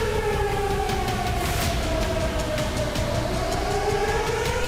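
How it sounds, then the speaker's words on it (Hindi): An air raid siren in Ukraine wails with a slow, wavering rise and fall in pitch, loud and continuous over a constant rumbling background. "रेस्क्यू ऑपरेशन के बीच यूक्रेन में अचानक सायरन"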